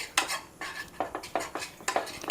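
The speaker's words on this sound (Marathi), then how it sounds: "हे चांगलं भाजून घ्यायचं खमंग असं" Flour roasting in oil in a pan for gul poli, with repeated scraping and clinking strokes of a spatula against the pan over a faint low sizzle, in uneven bursts and without voices.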